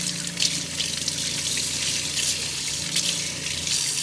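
Hot water runs steadily from a faucet into the sink of a camper van, a continuous close hiss and splash with a faint hum beneath.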